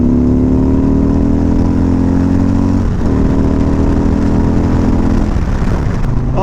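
A 2019 Harley-Davidson Road Glide Special with a 128 cubic inch engine, ridden hard: a loud, close V-twin roar rising through the gears with a shift partway through, continuous and alone.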